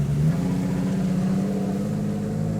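A Jeep Wrangler JKU Rubicon engine revs with a deep, throaty exhaust drone, loud and close, holding steady for a couple of seconds.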